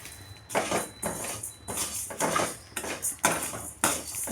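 Spices dry-roasting in a steel vada pan on a low flame, heard as a series of quiet metallic scrapes and stirring strokes against the pan in irregular bursts, close and with no speech.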